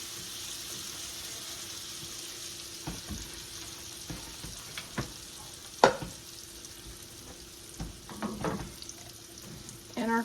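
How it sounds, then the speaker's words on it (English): Onion sizzles in bacon grease in a pot for corn chowder, a constant soft frying hiss broken by scattered clanks and scrapes of stirring. "The reason I like to fry mine is it gets that bacon grease into these vegetables"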